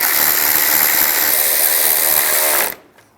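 A power ratchet or electric driver whirs loudly and steadily, close up, as it tightens the ignition coil bolts on a 2007-18 Jeep Wrangler, then stops abruptly near the end.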